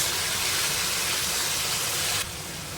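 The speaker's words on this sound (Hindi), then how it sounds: "अब मैं इसमें डालूँगी 2 से 3 टेबलस्पून सोया सॉस" Soy sauce hits chicken fried rice in a hot pan, giving a loud, steady broadband sizzle and hiss that drops to a softer level near the end.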